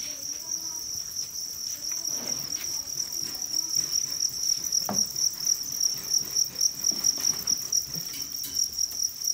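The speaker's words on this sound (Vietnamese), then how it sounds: "Đây là dế bố mẹ." Adult breeding crickets in a rearing box give off a loud, continuous high-pitched trill that turns into rhythmic pulsing chirps toward the end, close by with occasional soft rustling and no voices.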